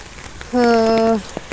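Steady light rain, easing after a heavy downpour in Indonesia, hisses softly throughout. A brief droning tone or hum briefly sits over the rain in the middle.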